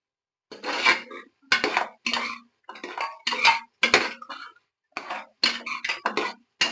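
A spoon stirs and scrapes ginger garlic paste and vegetables around a pan in a series of short, rough strokes with brief pauses between them. The sound is close and clear, with no talking.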